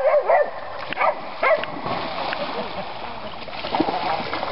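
A dog splashes and thrashes in pond water with sloshing bursts, while people talk nearby in the background.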